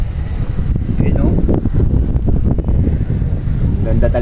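Wind buffets the microphone at a mountain view deck in Atok, Benguet, a loud, continuous low rumble that covers the whole stretch, with a voice faintly underneath.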